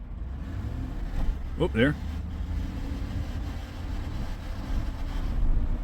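A 2016 car with a slipping transmission and flared shifts gives off a low, steady engine drone while driving, rising toward the end. A voice speaks briefly partway through.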